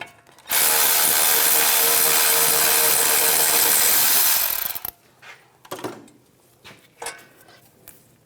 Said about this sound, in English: Take that bolt out. We'll slide the bracket off.